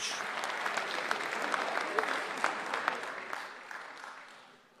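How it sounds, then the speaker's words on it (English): Audience applause at a spelling bee as teams walk onstage, a dense steady clatter of many hands clapping with a few sharper claps standing out, slowly fading toward the end. "Let's give all these teams a big round of applause as they make their way to the stage."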